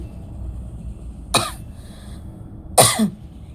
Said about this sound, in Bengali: ঠান্ডা লেগে এত কাশি লাগছে